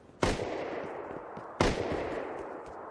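Two sharp gunshots in the video game Rust, each a loud crack with a long noisy tail, about 1.4 seconds apart, heard close with no talk.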